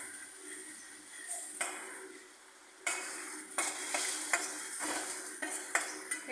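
Onions frying in a pan until deep reddish-brown for a Surat-style paneer ghotala sabzi, a steady close sizzle broken by irregular scraping stirs that grow busier in the second half.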